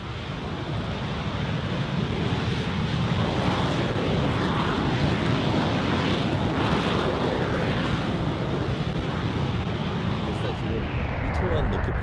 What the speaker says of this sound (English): Here's what our Stage 1 full stack engine test looks like.